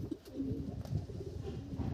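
A racing pigeon coos softly as it arrives at its loft during a training flight in Rosales, Pangasinan, a low, faint burbling murmur with no voices.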